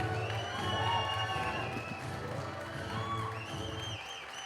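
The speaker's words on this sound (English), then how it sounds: "Let's give them a big round of applause." A graduation crowd for the class of 2020 cheers and applauds together in a commencement hall, a fairly faint, steady wash of clapping, whoops and children's shouts lasting a few seconds.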